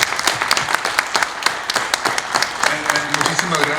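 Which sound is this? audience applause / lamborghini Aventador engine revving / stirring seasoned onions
audience applause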